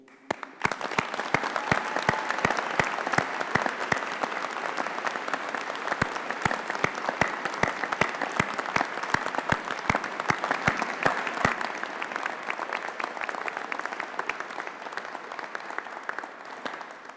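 A graduation ceremony audience applauds steadily for well over fifteen seconds, a dense continuous wash of clapping that stays loud and even, with no talking over it.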